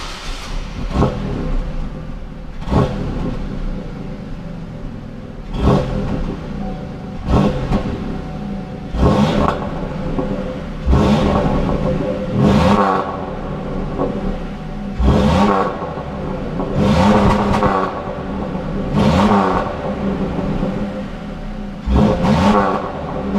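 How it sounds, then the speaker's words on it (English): A Pontiac Bonneville's exhaust revs repeatedly, about a dozen loud throttle blips rising and falling in a steady rhythm over a rumbling idle, close by and with no talking. "we'll give you an exhaust clip of what it sounds like right now"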